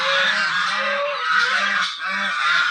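Loud, harsh honking calls from several ducks overlap in a noisy chorus, close by and continuous.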